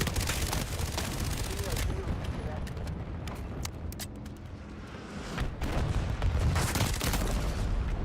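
Rapid gunfire from a modded Minecraft shooter with tracer rounds, repeated sharp shots in bursts throughout, loud and close, with a voice talking over parts of it.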